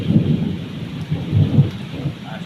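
Heavy thunder rumbles low and continuous through a thunderstorm, with steady rain pattering on surfaces underneath; the deep rolling booms swell twice, loud and close, with no voices.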